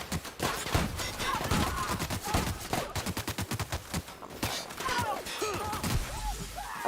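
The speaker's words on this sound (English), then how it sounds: "somebody's shooting at me" Gunfire in The Outer Worlds game: a steady patter of rapid shots and sharp impacts runs throughout, moderately loud, with occasional thuds and crashes in the mix.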